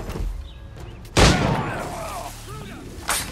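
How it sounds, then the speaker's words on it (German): Gunfire in the video game Assassin's Creed IV: Black Flag, with a loud, sharp shot landing a headshot, then a second shot near the end, over game ambience and faint voices. "also mit einem Headshot geht auch ein Schuss."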